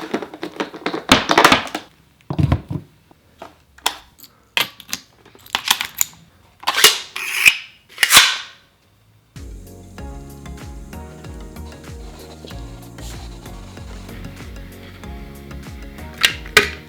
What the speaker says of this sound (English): So now we're going to start nailing in the boards.